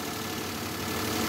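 A Daihatsu Ayla 1000cc car engine idles with a steady, even rumble and light mechanical ticking, close and continuous at a constant level.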